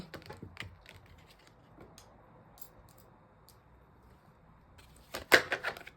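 Tarot cards being shuffled give soft riffling and tapping clicks, sparse through the middle and bunching into a louder flurry near the end, with no talk.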